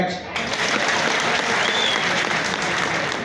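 Crowd of motorcycle-taxi riders clapping together at an outdoor security meeting, a dense, steady wall of applause running loud and continuous for a few seconds.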